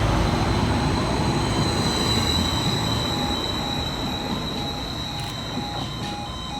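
Greater Anglia passenger train on the Cambridge to Ipswich service pulling out of Thurston station, wheels squealing high over a steady, close rolling rumble that eases slightly toward the end.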